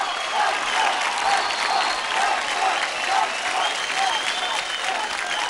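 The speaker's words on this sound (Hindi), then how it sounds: "जोरदार तालियां हो जाए तेरिया के लिए" An audience claps loudly after a child's dance performance on a televised dance competition stage, a continuous, even roar of applause with faint whoops and cheers rising above it.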